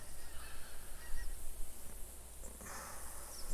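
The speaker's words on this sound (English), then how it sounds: "we're gonna have some geese coming in this time" Canada geese honk in the video game theHunter Classic during a goose hunt, a flock of calls carrying over steady low wind noise and fading slightly toward the end.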